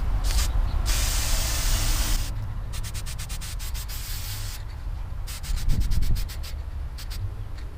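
Gloss black spray paint hisses from an aerosol can onto a prop outdoors in the wind, first as one long continuous spray and then as a run of short repeated bursts.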